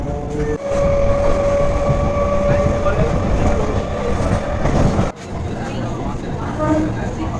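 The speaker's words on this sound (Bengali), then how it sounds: "ট্রেন এই মুহূর্তে এসে পৌঁছালো উত্তর চব্বিশ পরগনার কাকিনাড়া" A local train pulls into Kankinara station in North 24 Parganas with a loud, steady rumble and rattle of the carriages, a tonal brake whine, and a brief dip in level partway through.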